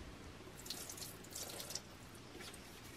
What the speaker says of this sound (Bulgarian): Пак пускам вода.